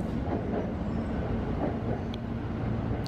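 Train pulling into a station in Shibuya, Japan, giving a steady loud rumble and rail noise throughout, with no talking.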